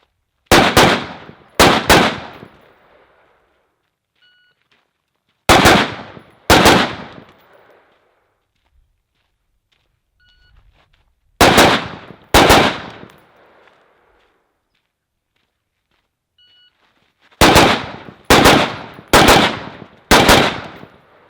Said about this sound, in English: But I'll shoot a few more mags, and then we'll call it a day.